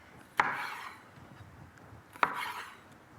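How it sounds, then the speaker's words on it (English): A knife halves cherry tomatoes on a cutting board, giving two sharp, separate taps a couple of seconds apart, each with a short scraping tail, close and fairly quiet in an otherwise still room. "I've also got some beautiful cherry tomatoes here, and I'm going to cut some in half"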